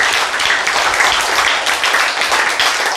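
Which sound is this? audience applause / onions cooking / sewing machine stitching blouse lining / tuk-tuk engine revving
audience applause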